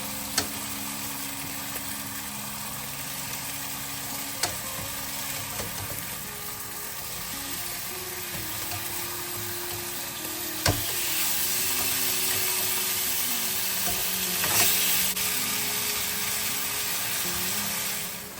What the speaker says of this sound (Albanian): Do t'i kthejmë nga njëra në tjetrën derisa të skuqen.